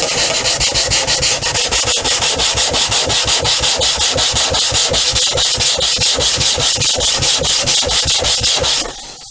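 Close, loud back-and-forth strokes of 80 grit sandpaper across the wooden fuselage of a model airplane build, a fast, even rasping rhythm that continues without pause and stops near the end.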